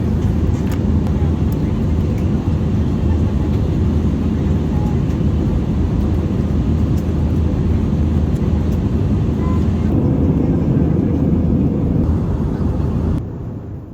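Steady broadband cabin roar aboard an Air New Zealand domestic economy flight after takeoff, a constant low engine and airflow rumble throughout that drops away only at the very end.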